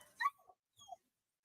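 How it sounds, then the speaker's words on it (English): An indoor dog gives a sharp whining yelp followed by a shorter second whimper after a brief gap, close and fairly loud, then quiet. "Sorry, the dog's loud."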